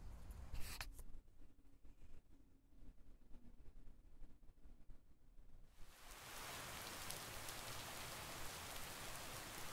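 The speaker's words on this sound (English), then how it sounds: "Oh yes, it's raining." Rain in the video game Lake, a soft crackle that swells into steady, dense rainfall in the second half.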